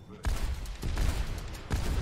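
Rapid gunfire in the video game Overwatch crackles in dense bursts, sharp repeated shots layered over each other close up, with a brief lull between volleys.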